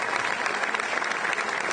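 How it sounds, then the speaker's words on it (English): An audience applauds the Board of Curators at a University of Missouri announcement about joining the Southeastern Conference, with dense, sustained clapping from a large crowd filling the room at an even level. "let us give you applause"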